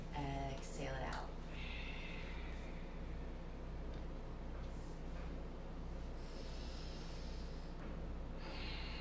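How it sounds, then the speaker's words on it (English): A long, close exhale during yin yoga, a steady, rushing breath that fills the whole stretch with breathy noise. "Exhale it out."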